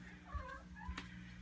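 A house cat gives two soft, short meows close by, faint over a low steady hum of aquarium equipment.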